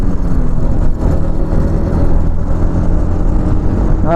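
Yamaha MT15 naked motorcycle accelerating hard, a loud, close, continuous engine roar with rising revs that fills the whole stretch, no speech.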